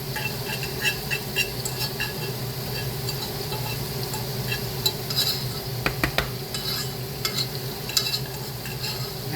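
A spoon scrapes and stirs buttery rice grains around a pan, making light repeated metallic scratches and taps over a steady background sizzle, with no talking.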